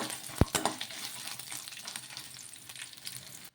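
Chillies, garlic and ginger fry in a pan while being stirred: a couple of sharp clacks near the start, then a steady, soft, close sizzling crackle with no talk.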